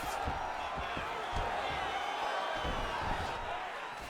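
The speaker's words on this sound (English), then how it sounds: "huge pop from the crowd as the fighters get back up to their feet" A dense crowd roar fills an arena in the EA Sports UFC 5 video game as fighters get back to their feet, steady and full with faint thuds beneath.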